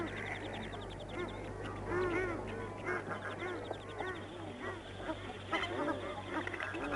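Black ducks, teal and hardheads quack repeatedly on the water in short bursts, some nearer and some farther off, over a low steady hum.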